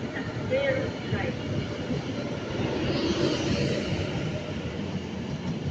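A West Coast train pulls away from Stafford station with a low, steady rumble that swells slightly, under faint background chatter and a brief tonal squeal.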